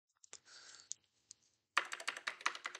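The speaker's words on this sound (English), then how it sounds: "Oh, he's typing." Typing on a computer keyboard during an online team meeting, starting with a few scattered quiet clicks and then becoming a rapid, steady burst of keystrokes close to the microphone.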